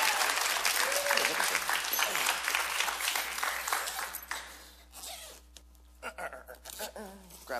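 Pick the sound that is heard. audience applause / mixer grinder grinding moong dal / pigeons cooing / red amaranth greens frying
audience applause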